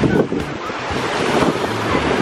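Sea waves roll in at a crowded beach, a loud rushing surf mixed with heavy wind buffeting the microphone, rising and settling in uneven surges.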